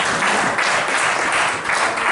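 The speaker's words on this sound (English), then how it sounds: "Let's give God an applause." A church congregation at a Christmas program claps loudly and continuously, a close, thick wall of applause with slight swells.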